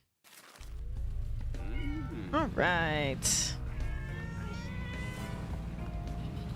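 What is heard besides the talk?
cat meowing happily in a PC video game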